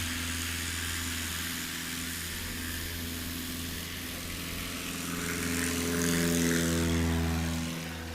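Propeller airplane at a STOL short-takeoff competition at an airpark, a steady loud engine drone with a rising pitch as power builds, alone without talk.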